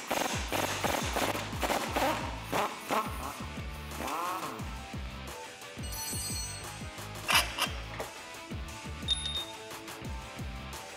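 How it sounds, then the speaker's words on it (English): Wrenching a bolt out of the axle side of a Jeep Wrangler JK lower control arm: repeated metallic ratcheting clicks and scraping taps, close and fairly quiet, in uneven bursts. "Now we can remove the bolt on the axle side of the control arm in the same way."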